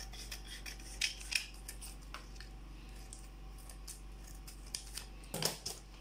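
Scissors trimming a piece of cork for a handmade sandal pattern, with a few close snips and soft rubbing of the material over a steady low hum, quiet and without speech.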